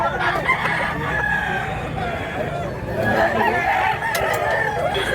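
A bulik rooster on a farm in Mantalungon, Barili, Cebu crows loudly and close by in a drawn-out call, with clucking fowl and voices in the background.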